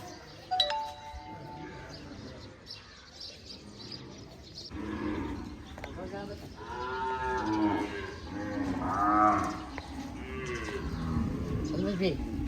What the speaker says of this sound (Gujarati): જો ગાયો ખાલી બતાવો કેટલી ગાય છે